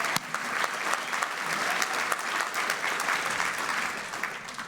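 Dense, loud audience applause filling a hall at a credit union annual general meeting, continuous many-handed clapping sustained throughout with no speech.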